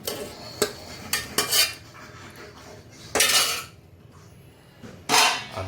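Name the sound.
fried potatoes added to mutton curry and stirred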